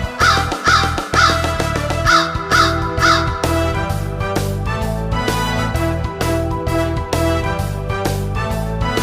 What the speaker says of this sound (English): Big black crow, you're a noisy bird.